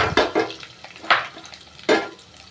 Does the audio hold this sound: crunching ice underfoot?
no